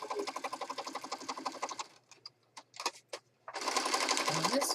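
A sewing machine stitching a paper journal page, running in a fast even rattle, pausing for a few clicks and handling taps, then starting up again, close and clear.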